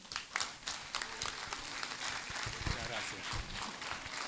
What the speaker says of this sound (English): Round of applause for all of us